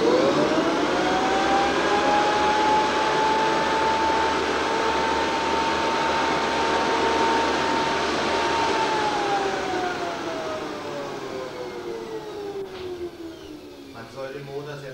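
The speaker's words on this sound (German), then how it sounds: "Ich werde den Motor jetzt nochmal auf volle Drehzahl bringen," An electric car motor revved to full speed whines in a rising then steady high-pitched tone, holding for several seconds before winding down near the end, close and loud over a broad hiss.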